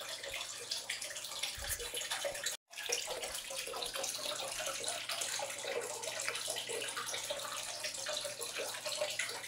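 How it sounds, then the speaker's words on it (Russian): Water pours steadily into a 200-litre home aquarium, a continuous splashing rush with one very brief break, close and fairly quiet, with no talking. "Дальше буду заливать воду."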